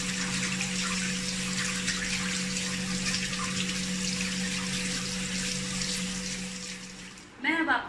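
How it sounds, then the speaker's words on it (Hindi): Hands being washed under running tap water, a steady hissing stream with a low mechanical hum beneath, ending in a brief louder splash. "हाथ अच्छे से पानी से भी धोना है।"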